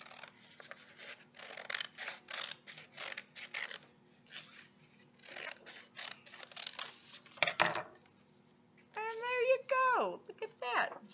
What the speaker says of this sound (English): I got my shape that I cut out of my construction paper